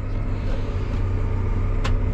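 A John Deere 7R350 tractor pulls away on a field during tillage, its engine a steady low rumble heard from the cab, with a brief brighter swish partway through.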